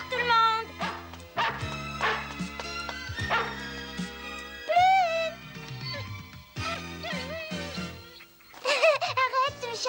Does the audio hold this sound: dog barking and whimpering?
yes